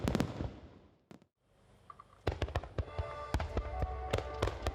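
Nagaoka fireworks burst over the Shinano River at a festival, a run of sharp cracks and booms, some near and loud, some fainter, after a short quiet gap.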